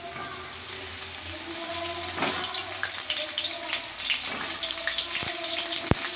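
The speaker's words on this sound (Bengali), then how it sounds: "তেলে আমি পটলগুলো সব ছেড়ে দিব" Pointed gourds in hot oil give a steady, close sizzle and hiss that runs throughout, broken by a few sharp clinks and taps near the end.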